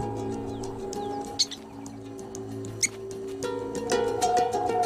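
A prairie dog gives alarm calls in open prairie, two short sharp chirps standing out over a steady background hum and faint bird twitters.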